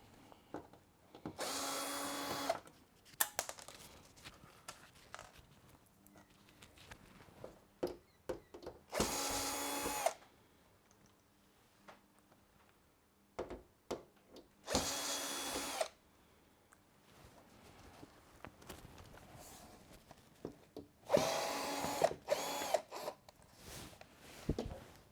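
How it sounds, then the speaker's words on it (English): Four bursts of whirring from a powered Phillips screwdriver removing screws from an LG tumble dryer panel, each lasting one to two seconds, separated by quieter handling noise and faint clatter. "remove the screws around that"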